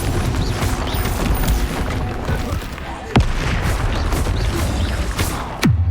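A Confringo fire spell from the video game Hogwarts Legacy bursts twice, each a sharp explosive crack with a falling whoosh, over a dense, continuous bed of loud battle noise and rumble.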